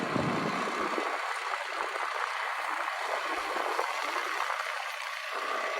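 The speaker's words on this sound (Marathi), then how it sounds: "इथं नदी आहे, तुम्हाला आम्ही दाखवतो" A river flows near Badlapur dam, a steady broadband rush of water that is fairly loud and continuous, with no voices.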